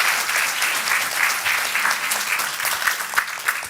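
A church congregation claps for the Lord during a sermon, dense steady applause from many hands filling the room evenly throughout, with no voices over it.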